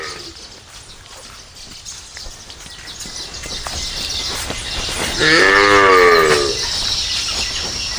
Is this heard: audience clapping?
no